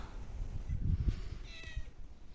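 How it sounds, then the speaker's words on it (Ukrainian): A domestic cat gives one short meow close by, over steady low background rumble, with no talking. "Кішка потребує уваги"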